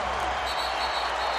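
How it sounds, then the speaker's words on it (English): A packed Staples Center crowd at a 2006 Lakers–Raptors NBA game roars and applauds in a sustained wash of cheering, heard close and loud throughout. "Listen to this crowd."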